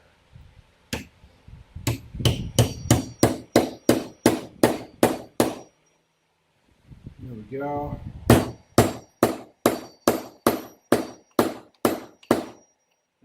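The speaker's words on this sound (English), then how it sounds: "Now I'm trying to hammer it down pretty even if I can." A hammer drives a wedge into a BSA Scout axe handle: two runs of loud, evenly spaced metallic strikes close by, about a dozen blows each. A brief spoken remark and some handling sounds fill the pause between them.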